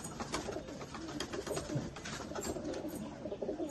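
Pigeons coo in low, throaty murmurs close by, overlapping amid some background rustle and clatter.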